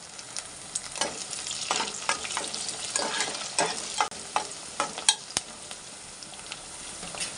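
Brinjal and curry leaves frying in a pan give a soft crackling sizzle broken by repeated spatula stirs and scrapes, each a short sharp burst, with no voices.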